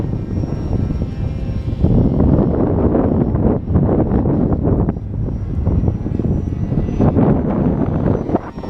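FT22 radio-controlled foam airplane flying in an extreme snowstorm, its propeller buzz mixed with heavy, gusting wind roaring across the microphone throughout.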